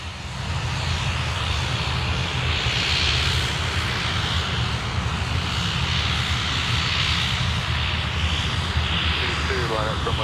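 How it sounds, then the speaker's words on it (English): Dash 8 turboprop engines at takeoff power at Sydney Airport at night, a loud, sustained roaring drone with a buzzing propeller tone filling the whole stretch, heard up close. "My word, they are so loud. These props, a Dash 8,"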